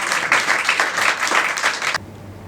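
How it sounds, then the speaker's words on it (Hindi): Audience applause at a Hindi poetry performance on stage, a dense wash of clapping sustained for about two seconds before cutting off abruptly to low room hum. "आप सब प्लीज़ तालियां बजा दीजिए"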